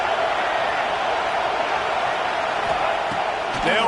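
Stadium crowd roaring on third down at a football game, a steady loud wall of massed voices sustained throughout with a few thumps near the end.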